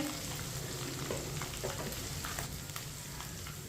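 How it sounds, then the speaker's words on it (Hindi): Ginger stirred in a pan of hot oil over a lowered stove flame while cooking rajma, a steady close frying sizzle with scattered scraping stir clicks throughout, no voices. "अदरक को मिक्स कर लिया।"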